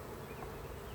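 Honey bees hum inside an open hive during an inspection, a dense, unbroken buzz that stays close and even from start to finish.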